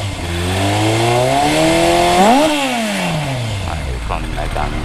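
A Kawasaki Zephyr 1100 fitted with FCR37 carburetors and a baffled PMC 4-into-1 exhaust is revved hard: engine pitch climbs sharply to a peak, then falls away as it settles back, loud and close.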